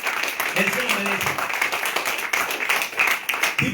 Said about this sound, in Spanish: Denle un aplauso al Señor poderoso.